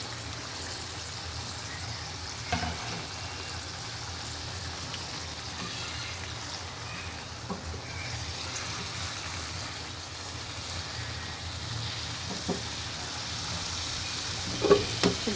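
Drumsticks, potato and pointed gourd fry in a spice paste, making a continuous soft sizzle across the whole stretch, with occasional faint clicks from stirring.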